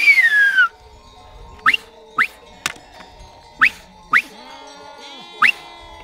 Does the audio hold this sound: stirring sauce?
no